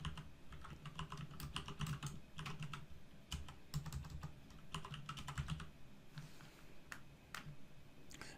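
Rapid bursts of typing on a computer keyboard, the keys clicking in quick irregular runs with short pauses, close and fairly quiet.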